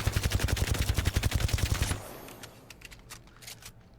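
Rapid automatic weapon fire in the Apex Legends video game, a fast dense burst of shots for about two seconds, then scattered fainter shots and echoes trailing off.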